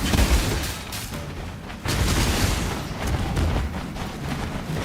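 A thrown bomb blasts in the Path of Exile action game, with heavy booming explosions rolling over a dense, rumbling battle din, loud and close, with no speech.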